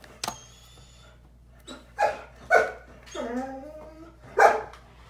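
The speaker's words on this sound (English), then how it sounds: "What kind of a dog is that?" A dog barks several times close by, sharp separate barks spaced a second or so apart, with one drawn-out whining yelp among them and no talking.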